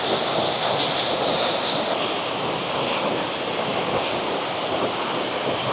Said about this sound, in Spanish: Ahora detrás de mí se encuentra la cascada y mira qué bella es.